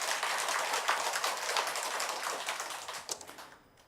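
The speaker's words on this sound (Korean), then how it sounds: "박수 쳐주세요." Steady applause from an audience at a Buddhist dharma service, a dense patter of clapping that holds evenly for several seconds and then thins into a few scattered claps before stopping.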